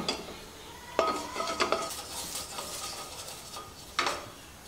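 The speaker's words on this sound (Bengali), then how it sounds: "আমরা গ্যাস ধরিয়ে নিচ্ছি, ধরিয়ে কড়াইটা বসিয়ে দেব" A metal kadai is set on a lit gas stove in a home kitchen, giving a few sharp clanks and scrapes at irregular moments over a quiet background.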